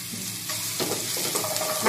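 Capsicum, tomato and carrot fry in a pan with a loud, close, continuous sizzle as they are stirred, and a few soft utensil scrapes sound beneath it.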